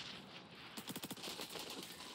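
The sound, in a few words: M4A1 rifle gunfire in XDefiant video game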